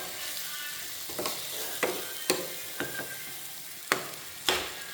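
Fried sardines stirred into masala in a pan, a steady frying sizzle broken by several sharp spatula scrapes and knocks against the pan, with no voices.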